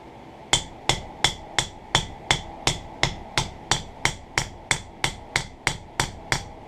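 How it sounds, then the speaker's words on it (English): A ball peen hammer peens a soft brass pin on an anvil in about sixteen sharp, evenly spaced metallic taps, each ringing briefly before the next, with no voices present. "Then I'll take the peen on my ball peen hammer."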